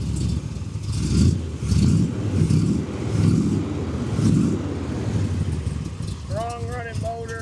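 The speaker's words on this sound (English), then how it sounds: "That is a 454 big block. Definitely has a cam in it." A cammed 454 big-block V8 in a 1969 Chevrolet Corvette with side pipes, headers, a Holley-style carburetor and hot ignition, idling close by with a lumpy, pulsing rumble that swells in steady surges. A brief higher tone appears near the end.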